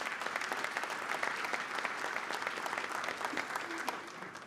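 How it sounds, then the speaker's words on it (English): An audience claps for the finalists of a discussion meet: a dense, even round of applause at moderate distance that holds steady and then begins to taper off near the end. "Please help me give all of our top 4 finalists a round of applause"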